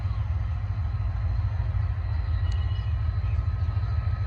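A train approaches slowly, its low rumble and rail noise steady and continuous, moderately near, with no clear voices over it.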